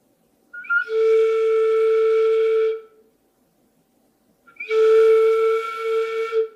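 Transverse flute notes played with the opening covered, two sustained breathy tones separated by a short silence, clear and close with no talking.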